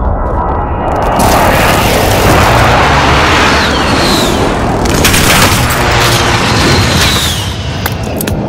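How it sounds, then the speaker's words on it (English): Loud, continuous barrage of airstrike explosions and rumbling blasts in the video game Call of Duty: Modern Warfare, with heavy booms rolling over one another for several seconds alongside scattered gunfire. "Allies, airstrike incoming."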